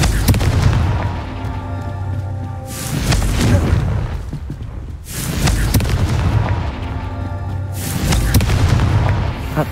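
Fiery Confringo spell blasts in Hogwarts Legacy, landing as repeated loud booming explosions with low rumbling tails, about three heavy bursts spread across the stretch with no talking.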